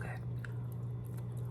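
Close, soft chewing of sweet plantain, with faint moist mouth sounds over a steady low hum.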